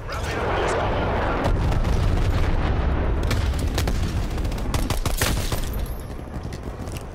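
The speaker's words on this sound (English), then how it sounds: "enemy napalm strike incoming" Napalm strike explosions in Call of Duty Black Ops Cold War, a sustained roar of fiery booms with sharp cracks and scattered gunfire layered through it, loud and continuous before tapering off, with some game voice mixed underneath.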